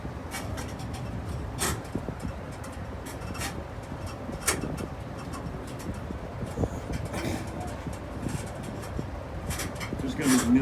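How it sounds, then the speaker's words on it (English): A tram rolling from the Dollywood Splash Country water park toward Dollywood gives a steady low rumble with scattered clicks and rattles, while people talk nearby throughout the ride. "this is a tram from the water park to Dollywood."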